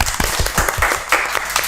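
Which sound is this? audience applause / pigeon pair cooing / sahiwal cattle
audience applause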